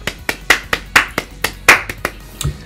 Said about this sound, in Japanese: いつもの拍手長めです